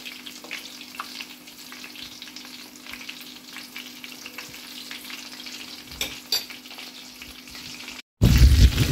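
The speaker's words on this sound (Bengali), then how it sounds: "এখন আমি ভেজে নিচ্ছি। চিংড়ি মাছ দেওয়ার পরে আমি ঘুরিয়ে দিচ্ছি।" Prawns fry in a pan with a steady close sizzle, broken by a few scraping stirs, and the sound cuts off just before a brief louder burst at the end. No one talks.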